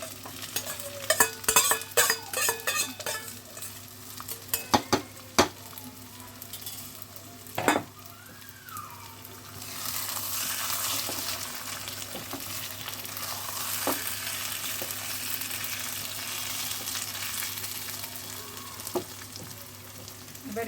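Chicken for chicken tehari frying in a pan, with a spatula scraping and clattering in quick irregular strokes over the food, followed by a steady, louder sizzle.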